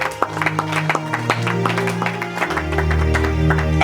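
A church congregation at a thanksgiving service claps and cheers for a few seconds, a dense, steady patter of many hands over sustained low organ or keyboard tones.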